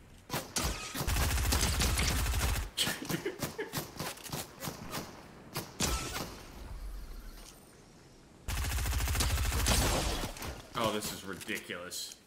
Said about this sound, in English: why is this guy hitting me with the SMG?